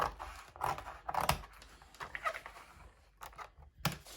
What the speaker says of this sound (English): I'm just going to carefully cut out a square or a rectangle shape